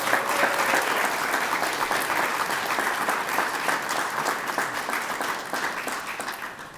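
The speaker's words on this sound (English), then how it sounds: "Let's take a moment to give all of you a very well-deserved round of applause." Sustained applause from an audience at a high school commencement ceremony, a dense, steady wash of many hands clapping that holds at an even level for several seconds with no talk.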